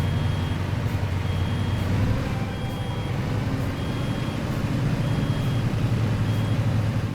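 The low air pressure buzzer in a Euro Truck Simulator 2 truck sounds as a steady series of evenly spaced electronic beeps over a loud, continuous idling engine rumble.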